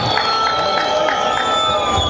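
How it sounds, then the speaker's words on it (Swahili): A campaign rally crowd for the CCM running mate claps and cheers in one dense, loud burst of applause and shouting. "Piga makofi mengi kwa Dr. Samia Suluhu Hassan."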